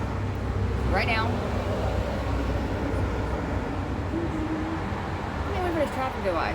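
Steady, loud road traffic rumbles continuously near the roadside, with a few brief voice-like sounds rising over the din.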